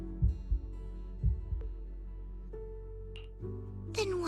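A racing heartbeat sound effect thumps in low, quick double beats under a steady hum, followed by a rising tone near the end.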